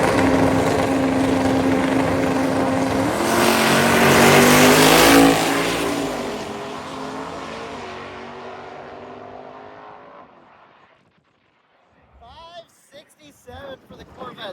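A Corvette makes a drag racing pass down the strip, a loud sustained engine roar that rises in pitch and then fades into the distance, with people talking afterward.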